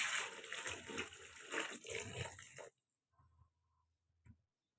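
Vegetables are swished in a bowl of salted water for a few seconds, a splashing, sloshing wash that stops abruptly, followed by faint quiet clinks and handling noises.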